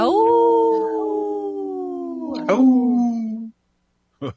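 A single long wolf howl, loud and close, slides slowly downward for about three seconds before breaking off, followed by a brief gap and short bursts of another sound.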